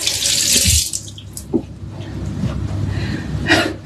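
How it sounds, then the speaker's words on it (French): A kitchen faucet runs in short gushes as fingers are rinsed during batch cooking, with brief sniffles and small handling noises between the loud bursts of water. "je vais rincer les doigts, là."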